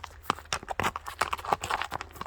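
Horse from the Bishkek stud farm, sold on to Kazakhstan, with hooves clip-clopping in quick, uneven close strikes over a low background.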